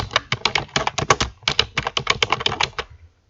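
Rapid, uneven keystrokes on a computer keyboard, close and clear, clattering in short bursts for about three seconds before stopping.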